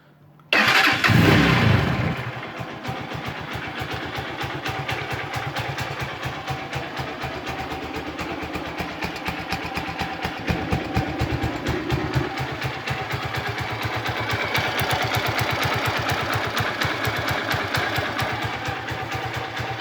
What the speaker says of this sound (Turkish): Motorumuzun sesini göstereyim size.